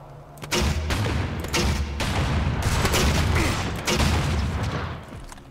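Rapid, loud gunfire from the shooter video game Rage, several dense bursts of shots and booms across a few seconds, with no talk over them.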